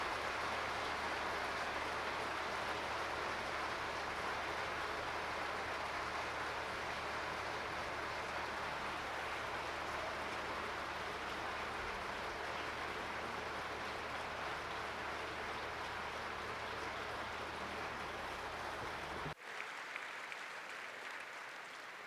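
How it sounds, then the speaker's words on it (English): Sustained applause from a large audience at a school graduation celebration, dense steady clapping filling the hall for about nineteen seconds before cutting off abruptly into a quieter room tone. "let's give a round of applause for her"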